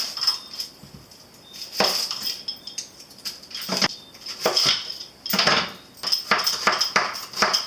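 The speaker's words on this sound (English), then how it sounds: "I'm going to peel them off first and then chop them up" A knife peeling and chopping onions on a cutting board in a home kitchen, irregular clusters of sharp clicks and knocks of the blade, close and fairly loud, with short pauses between bursts.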